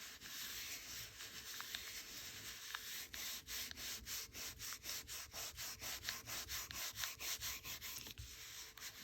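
Coarse 40 grit sandpaper rubbed back and forth over polymer clay, a steady run of rasping strokes in quick rhythm, close and fairly quiet with no talk.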